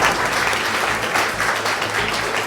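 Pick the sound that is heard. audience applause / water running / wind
audience applause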